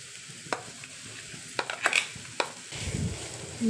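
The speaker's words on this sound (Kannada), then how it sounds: "ಚೆನ್ನಾಗಿ ನಾವು ಫ್ರೈ ಮಾಡ್ಕೋಬೇಕು ಒಂದಕ್ಕೊಂದು ಎಲ್ಲ ಚೆನ್ನಾಗಿ ಮಿಕ್ಸ್ ಆಗಬೇಕು" Bitter gourd coated in chili powder paste fries in a pan, a soft sizzle under several sharp, separate spatula scrapes and knocks against the metal, ending in a brief louder stir, close up.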